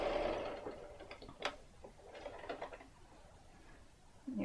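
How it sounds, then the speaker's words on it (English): A sewing machine stitches a quilt seam in quiet, light bursts of ticking and patter, ending with a louder burst at the close. "Hold it in place and sew all the way to the end."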